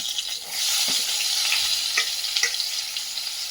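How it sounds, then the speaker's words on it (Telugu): Chopped onions fry in a hot pan with a loud, continuous sizzle, broken by a few soft knocks of stirring. "మనం తరిగి పెట్టుకున్న ఉల్లిపాయ ముక్కల్ని కూడా వేసేసుకోవాలండి"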